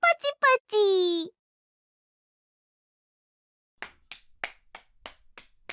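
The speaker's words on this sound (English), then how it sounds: "gave me an introduction and a round of applause" A brief burst of hand claps for a round of applause in the visual novel game Chaos;Child, following a short spoken line and a gap of silence.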